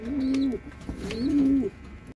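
Two long, low coos from pigeons of a prized breed kept for racing, each lasting about half a second with a gap between them, heard up close and clear with no voices.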